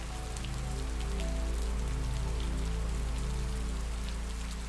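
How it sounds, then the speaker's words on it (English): Heavy rain pours steadily outside a woodland cabin, a dense continuous hiss of drops on surfaces with a low rumble underneath, unbroken and close for the whole stretch. "the pouring rain outside"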